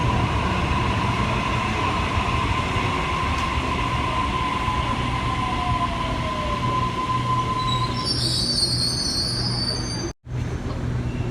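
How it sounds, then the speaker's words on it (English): A Sydney A20 train pulls out of platform 1 at Parramatta, with a steady rail rumble and a long wheel squeal that slides down in pitch. A loud hiss builds near the end before a brief drop-out. "A20 is now departing on platform number 1. It is going to Olympic Park."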